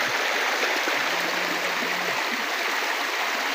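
A river stream flows in a steady, broad rush of water, close and continuous, with no talking.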